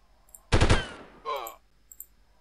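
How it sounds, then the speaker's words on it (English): A short burst of gunfire from a rifle in burst-fire mode in the game Delta Force, a loud close volley followed by a fainter echoing tail, then quiet. "I'm just gonna turn on burst fire mode because I would rather have the accuracy"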